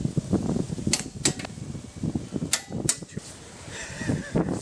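Installing BC coilovers on an E36 M3, with bolts being torqued: a series of sharp metallic clicks and clacks from tool work, irregularly spaced over low workshop rumble, fairly close.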